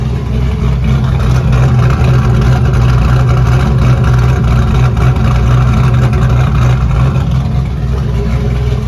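Loud, steady rumble of a turbo LS V8 with an SDPC LS6 Power Max Plus cam idling nearby in a Pinto wagon, a constant deep throb that holds unchanged throughout, on a freezing day.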